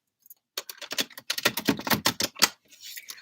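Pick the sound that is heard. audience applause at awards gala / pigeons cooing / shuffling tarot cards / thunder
shuffling tarot cards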